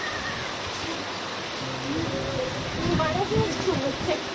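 Monsoon rain falls steadily in Davanagere, a continuous hiss of water on the ground, while voices and chirps rise in the background partway through.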